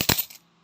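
Coins drop into a coin bank with a couple of quick metallic clinks, then a brief ringing pause before another close jingle.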